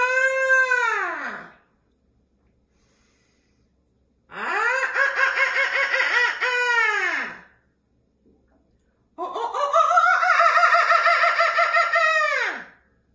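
A voice imitates a bird with three long, loud, wavering crowing calls, each separated by a few seconds of silence.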